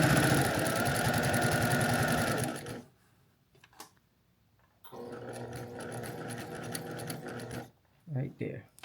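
A sewing machine stitches quilt binding in a rapid, steady mechanical whir for nearly three seconds, stops briefly, then runs again for another stretch, loud and close.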